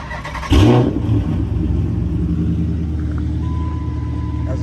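A Dodge Challenger SRT 392 Scat Pack fires up with a sharp, loud start burst that settles into a deep, steady rumbling idle, heard close with a window down.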